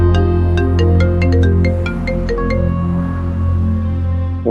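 An incoming call rings on a phone, a loud, close melodic ringtone of bright tones in a quick rising and falling pattern over a low steady hum, with the final notes fading out.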